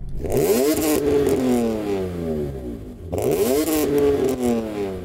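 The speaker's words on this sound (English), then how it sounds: "Let's have a listen to the E46." A BMW E46 M Coupe inline-six engine revs up twice, each rise climbing smoothly in pitch then falling back, loud and close with a steady mechanical drone between.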